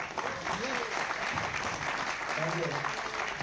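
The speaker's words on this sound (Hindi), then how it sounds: "बहुत जोरदार तालियां बजाएं" An audience at a business seminar applauds steadily for the full stretch, a dense, even wash of clapping with a person talking over it.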